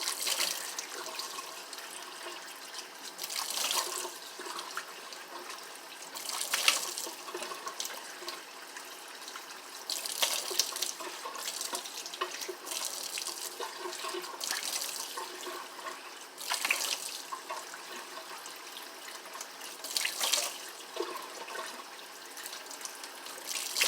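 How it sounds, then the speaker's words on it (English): Tap water runs steadily into a bathroom sink while someone rinses their face during a nighttime skincare routine, with repeated louder splashing surges as hands scoop and splash water, no talking. "Okay, time for rinsing."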